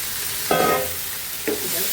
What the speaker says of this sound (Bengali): আমি যে সোয়াবিনটা সেদ্ধ করে রেখেছি নুন হলুদ দিয়ে, সেটা আমি দিয়ে দিচ্ছি।